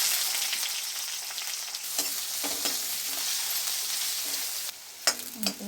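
Green onions sauté in hot oil in a pan already tempered with mustard seeds, urad dal and fennel, for a plantain stem kootu. A steady close sizzle runs throughout, broken by a few sharp spoon scrapes and stirs toward the end.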